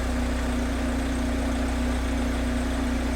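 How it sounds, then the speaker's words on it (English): A 1-liter four-cylinder Volkswagen petrol engine idles steadily after a cold start, nearly warmed up, giving a constant close-up hum with an even low drone and no talking. "This is a petrol 4-cylinder, 1 liter from Volkswagen"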